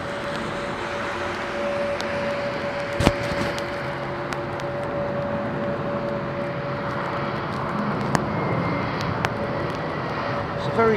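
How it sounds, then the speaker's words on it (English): An Airbus A321 arrives at rainy London Heathrow from Rome, a steady engine rumble with a sustained whine and a few sharp clicks, while a person talks over it. "the A321. This one in from Rome"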